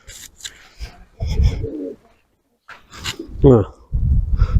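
Pigeons coo in small homemade pigeon lofts, several soft rolling coos rising between bursts of close rustling and a voice speaking over them.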